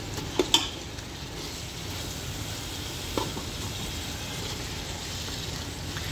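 Spice masala for beef biryani fries in a pot with a steady, soft sizzle, broken early by a couple of sharp clinks of a spoon against the metal and a faint scrape later on.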